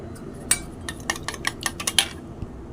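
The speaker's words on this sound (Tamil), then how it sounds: "இப்போ ஒரு முட்டையை அடித்து ஊற்றிக்கலாம்" A fork or whisk clinks against a bowl while an egg is beaten for a chicken 65 marinade: quick light metallic taps in an uneven run, close and moderately loud, with no talking.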